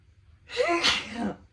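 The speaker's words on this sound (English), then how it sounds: "Oh, it hurts even to sneeze." A single sneeze, close and sudden, starting with a sharp intake of breath and ending in a forceful burst.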